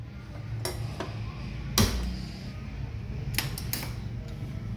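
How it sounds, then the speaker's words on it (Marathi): A gas stove's igniter clicks sharply a few times in a home kitchen, where jackfruit chips are about to be fried; one louder snap sounds near the middle, then a quick cluster follows, all over a low steady hum. "तर आता मी गॅस लावते आणि आपण आता तळून घेऊयात आपले गरे"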